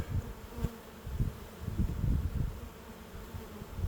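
Honey bees swarming over the frames of an opened hive produce a faint, continuous low buzz with small swells and individual insects passing close by.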